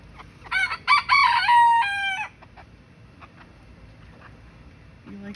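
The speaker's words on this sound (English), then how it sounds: "they're trying to get in with the other chickens" A backyard chicken flock: a rooster crows loudly and nearby, followed by quieter scattered clucks from the hens, with faint background noise.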